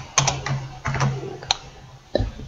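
Keystrokes on a computer keyboard while entering bibliography references in TeXMaker, a few separate close taps and short bursts in an otherwise quiet room.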